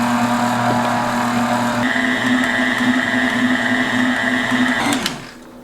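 An electric mixer whirs steadily while beating cake batter with almond extract, a constant loud motor hum with a shifting tone partway through, then it winds down and stops near the end.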